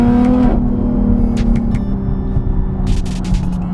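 Modified BMW G80 M3 with a manual gearbox in Sport Plus mode, engine droning loudly from inside the car with a pitch drop on a downshift, followed by crackling burbles and pops on the overrun.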